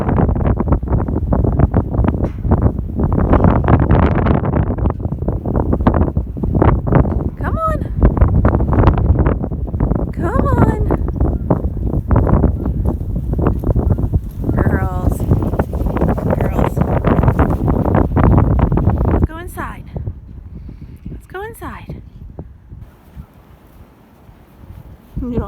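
Strong winter wind roars across a microphone outdoors by horse stalls, a loud continuous buffeting that holds for about nineteen seconds before easing off, with voices calling out over it.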